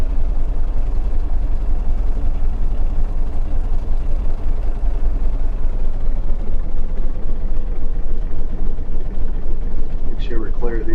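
A small airplane's engine drones steadily at low throttle as it taxis on the ground, a constant close rumble that holds even throughout, with no clear voices over it.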